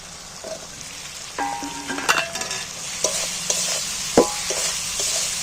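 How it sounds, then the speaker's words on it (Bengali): Fried potatoes being stirred with spice masala in a pan, a close sizzle broken by several scraping spatula strokes and clinks against the metal. "এবার আলুটার মধ্যেই মশলাটাকে আরও কষিয়ে নিচ্ছি"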